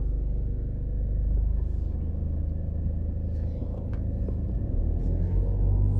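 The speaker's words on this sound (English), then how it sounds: "So it's a very busy road" Busy road traffic on Arthur Wint Drive in Jamaica, with a steady low rumble of passing cars and engines building and fading, plus a few faint higher clicks and rattles, with no talk over it.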